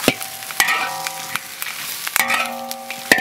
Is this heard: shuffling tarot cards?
no